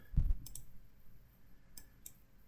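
A computer mouse clicks a few separate times while working in PowerPoint, crisp and close, with quiet pauses between the clicks.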